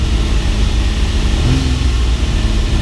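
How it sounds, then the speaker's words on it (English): A classic Ferrari engine, a lighter unit half a litre smaller than the 350, revs steadily and loudly from close by, a dense continuous engine roar with no talk over it. "Feels more free revving than the 350. A lighter engine."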